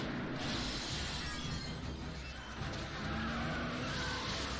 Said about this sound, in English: handbrake turn there